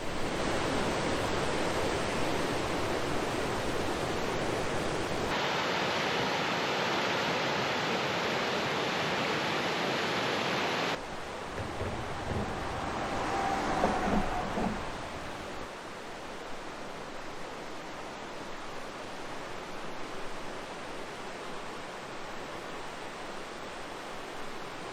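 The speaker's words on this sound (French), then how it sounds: "Je me suis arrêté pour aller voir la rivière Hard Jaune." The Hart Jaune river on Quebec's Côte-Nord roars loudly and steadily, continuous rushing water like a fast river, with the level shifting partway through and no voices.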